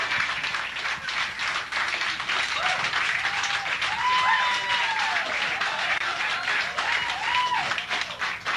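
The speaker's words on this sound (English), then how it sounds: "let's have one more round of applause for both great players" Audience applause after a high-stakes pool match, a steady dense wash of clapping throughout with a few faint whistles and voices rising over it.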